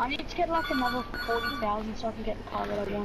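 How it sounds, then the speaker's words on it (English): A home telephone in GTA rings with repeated bright electronic trills beneath a man chatting steadily over the gameplay. "Oh, the phone's ringing."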